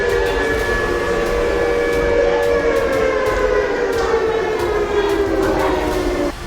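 A civil defense siren wails during a mock emergency drill at a school in Jammu, a steady loud tone with harmonics that slowly falls in pitch and holds for several seconds with no talking.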